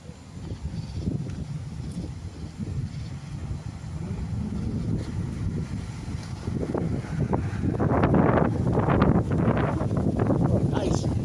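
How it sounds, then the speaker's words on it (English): Wind blows steadily across an outdoor putt-putt course and buffets the microphone in a rough, rumbling rush that swells louder toward the end, with muffled talk underneath. "It's like a southerly gust down."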